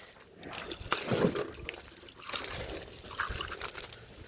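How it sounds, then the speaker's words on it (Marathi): Water is poured from a bucket over a buffalo outdoors, coming as two quiet bursts of splashing trickle separated by a short lull, fairly faint and without clear speech. "आणली बादली तिथलं घेऊया पाणी ओतून म्हशीच्या अंगावर"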